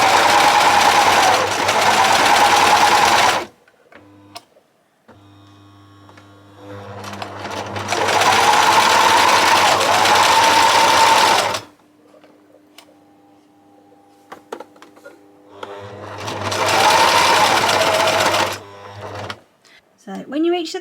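A sewing machine stitches pet bandana fabric in three loud, close whirring bursts separated by quiet pauses filled with small clicks and handling sounds.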